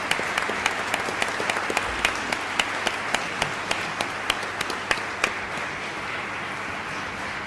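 Applause from an audience at an academic event in Barcelona, sharp individual claps standing out over a steady wash of clapping that fades slightly toward the end.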